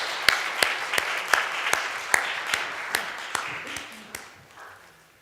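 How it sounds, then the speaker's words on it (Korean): A church congregation claps in welcome during a Sunday service, a burst of many hands with sharp, evenly spaced loud claps standing out up front, slowly thinning and fading away toward the end. "박수로 환영하겠습니다."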